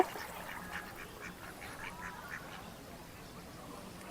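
Several ducks quack repeatedly at a moderate distance as they run into the water of Tukkamari Dighi, a 22-acre pond in Naogaon, Bangladesh, a busy chorus of short nasal calls over a soft outdoor background.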